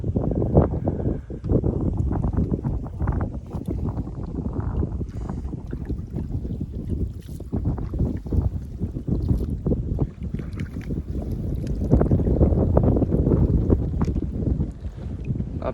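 Strong wind buffets across an open village wetland during fishing from a small boat, a loud continuous roar of gusts and microphone rumble, swelling and easing without pause and with no voices.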